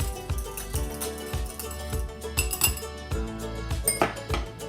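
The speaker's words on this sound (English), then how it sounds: "Mix that up until it starts to get nice and creamy and everything is blended" Vinegar salad dressing being mixed in a bowl, with steady rhythmic clinks of a utensil against the bowl repeating every half second or so, close and clear.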